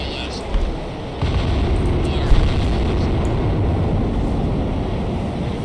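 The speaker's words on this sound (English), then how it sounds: "Missile launch detected." In the submarine game Cold Waters, a missile launches with a sudden loud roaring whoosh that swells into a sustained rumble, with a spoken voice over the noise.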